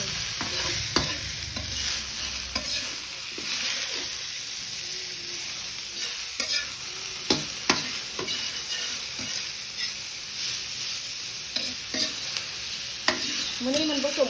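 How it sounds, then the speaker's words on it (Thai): Mushrooms fry in a small amount of oil in a pan and are stirred over and over, with a steady sizzle broken by scraping strokes and occasional clinks. No one speaks. "ต่อไปต่อเห็ดลงไปเลย"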